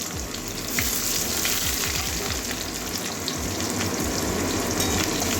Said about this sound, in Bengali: এবারে পেঁয়াজ দিচ্ছি